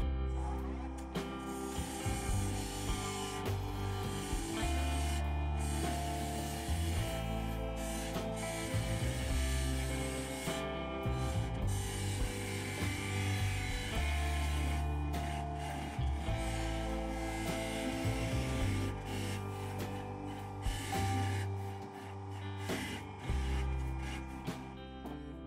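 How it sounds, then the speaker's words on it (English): A spindle gouge cuts a wooden nutcracker on a lathe, making a continuous scraping, rasping sound over the machine's steady whirring hum, close and moderately loud throughout. "I'm going to switch over to my spindle gouge and give that a go."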